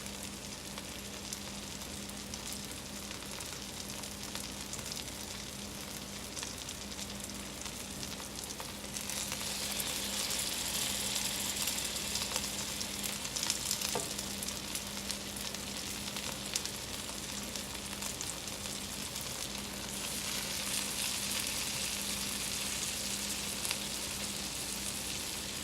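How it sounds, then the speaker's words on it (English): Food sautes in a pan with a steady, close-up sizzle that swells louder in two long stretches, a low constant hum running beneath and no voices. "when you saute, you want to give it time to brown on one side before you turn it."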